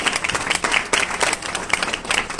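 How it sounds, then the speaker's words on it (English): Audience at a panel event claps steadily throughout, a dense, continuous wash of many hands with no one speaking. "How do people clap at this?"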